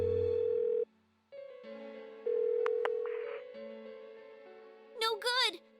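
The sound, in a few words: phone call ringing in the video game Persona 4 Golden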